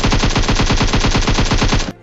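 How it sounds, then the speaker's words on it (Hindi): Automatic gunfire in the battle royale game PUBG during a fight in Pochinki, a loud, fast, evenly spaced burst of shots lasting about two seconds before cutting off abruptly. "उसने मेरे को फायर किया था"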